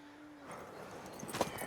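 A mare's hooves clip-clopping in The Witcher 3, a few soft, quiet hoof steps over a faint background, brief and low in level.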